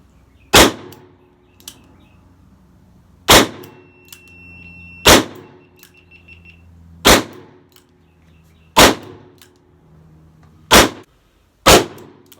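A 2020 Colt Python revolver fires about seven loud, sharp shots at uneven intervals, each a hard crack with a short ringing decay, heard up close with no talking.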